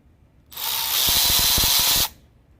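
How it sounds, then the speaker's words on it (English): Milwaukee M12 Fuel 3/8-inch high-speed ratchet, model 2567-20, spinning freely: a loud, steady high-pitched whir of about one and a half seconds, starting and stopping abruptly, with a rapid clicking rattle toward the middle. "M12 fuel high-speed ratchet. It is high speed, you can tell. It's much faster. You see that thing spinning?"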